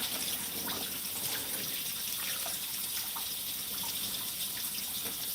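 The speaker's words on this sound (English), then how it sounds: "This is water and vinegar washing these things," Items are washed in a sink with water and vinegar, giving a steady rush of running water with light splashes throughout, fairly close and with no voices.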